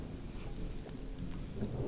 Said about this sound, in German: dieser Regen irgendeinen Einfluss hat. Vielleicht ist da dann der Blitz stärker